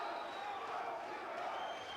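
A boxing crowd at a South African light-heavyweight title fight roars for Thulani 'Sugarboy' Malinga, a dense continuous swell of cheering voices at moderate distance.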